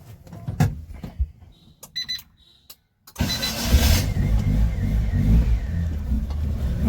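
A car that has sat unused at home for weeks cranks with a few short starter bursts, then catches and its engine roars into a loud, sustained revving idle close by.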